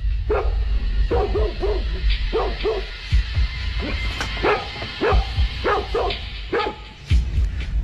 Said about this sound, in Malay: Waktu itulah baru kita dengar bunyi anjing.